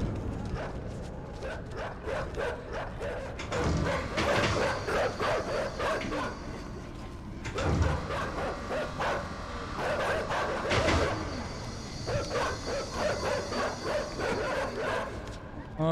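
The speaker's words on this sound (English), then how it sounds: "Stupid dogs." Dogs barking and yelping in the dark puzzle-platform video game Inside, repeated sharp barks in bursts throughout, fairly close and loud, with a person talking over them.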